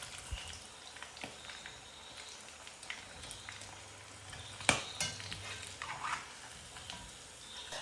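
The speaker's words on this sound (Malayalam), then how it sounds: "ഫ്രൈ ചെയ്യലും ഇതാ ഇവിടെ നടക്കുന്നുണ്ട്." Quail fry in a pan with a faint, steady sizzle and crackle, interrupted by a sharp clink and some light scraping, heard quietly from a short distance.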